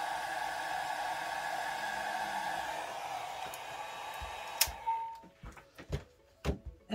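A hair dryer blows steadily to dry alcohol ink for a flower painting, a constant broadband whoosh for about four seconds before it cuts off, followed by scattered knocks and handling sounds.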